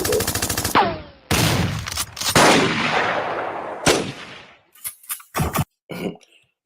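Loud bursts of gunfire from a played video, with sharp repeated shots and rapid volleys in close succession, then scattered single bangs separated by brief silences.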